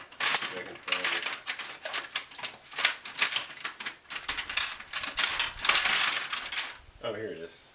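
Metal wrenches clattering and clinking as a hand rummages through them while repairing a Schwinn cruiser bicycle, a dense near run of jangling metal knocks, ending with a brief voice.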